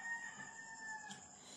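Chickens at a farm in Davao give a faint crow with soft clucking, one short, distant call over quiet background.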